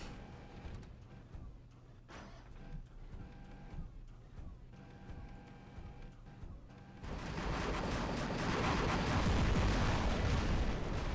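Robot combat in the War Robots game plays as a dense rumble of heavy gunfire and explosions, broken bursts at first and then a loud, sustained roar of continuous firing.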